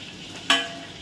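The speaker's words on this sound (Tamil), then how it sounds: "வெங்காயத்தை வதக்கிட்டு இருக்கேன்" Onions sautéing in a pan give a short burst of sizzling as they are stirred, close and fairly faint, with no talking.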